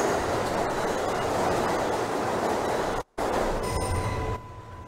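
A Queens-bound J local subway train running in Trainz Simulator 2012, a loud steady rumble of wheels and motors with faint squealing tones, a brief dropout near the end, then a quieter hum as the train slows.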